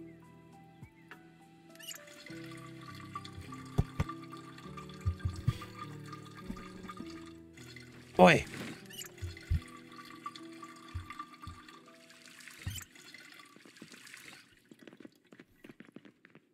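In Project Zomboid, a camping canteen is filled from a tap, with soft water-running and splashing game sounds, scattered drips and clicks, and one louder gush midway; a voice speaks a single brief word.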